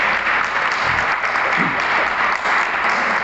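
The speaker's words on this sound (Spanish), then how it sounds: "Que no he pedido ningún aplauso," A church congregation applauds during a Mass marking a priest's 63rd anniversary of ordination, a dense, steady clapping from many hands that fills the room for a few seconds without letting up.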